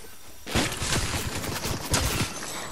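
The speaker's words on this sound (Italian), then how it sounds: "No, Piero, io qua ho sentito spari un attimo" Gunfire in the Fortnite video game: a dense, loud burst of rapid shots fired over about two seconds, harsh and crackling over a steady noisy background, with no talking.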